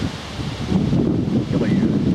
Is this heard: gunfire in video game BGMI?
no